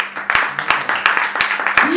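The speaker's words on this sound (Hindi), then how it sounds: "ऐसे जोरदार तालियां" Loud, rhythmic clapping at a Hindi-language Christian gathering, with sharp beats about every third of a second and some scattered claps between them, close and energetic.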